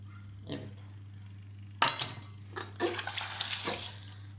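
A spoon scrapes and clinks against a pot while stirring a sauce of tomato paste and salt for a chicken and cauliflower dish, with a few close, irregular metallic knocks and scrapes over a low steady hum.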